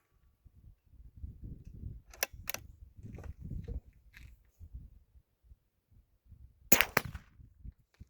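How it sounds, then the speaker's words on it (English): A suppressed Savage B22 rifle fires CCI Clean wax bullets. Two quick, sharp cracks come close together, then a single louder shot several seconds later, with quiet handling noises between them. "Pretty quiet because of the suppressor."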